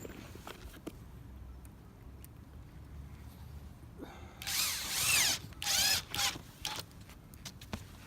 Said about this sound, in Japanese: これからビスを入れます